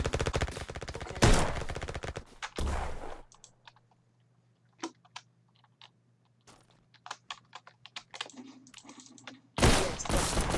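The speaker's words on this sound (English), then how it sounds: "that's the pistol" Pistol shots in the trench warfare video game Trenches, sharp bursts of gunfire near the start and end separated by sparse clicks and light tapping, loud and close.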